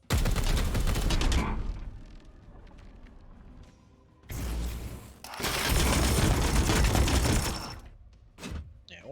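Heavy weapons fire in Warhammer 40,000: Chaos Gate - Daemonhunters comes in two loud sustained volleys with booming impacts, separated by a quieter stretch and ending in short bursts.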